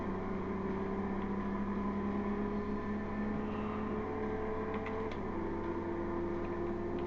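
An Audi Q7 V12 TDI in Forza 4 drives with a continuous, low, steady engine drone, its pitch shifting slightly midway through, with no talk over it.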